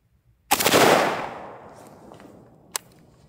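An AK-47 fires a single loud 7.62x39 round into a 100 lb concrete target outdoors, a sharp nearby blast whose echo decays over about a second, followed by a faint click.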